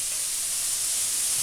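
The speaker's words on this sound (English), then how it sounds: "I'm going to throw that bacon in there." Bacon sizzling in a hot pan for a Mexican-style Thanksgiving dish, a steady, dense hiss with no breaks, loud and close throughout.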